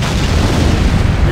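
A deep, rumbling explosion in the Halo video game, a sustained loud boom with heavy low-end roar lasting over a second, no talk over it.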